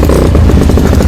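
A motorcycle engine is kicked into life and runs with a loud, close, rough throbbing chug that continues steadily through a very short moment.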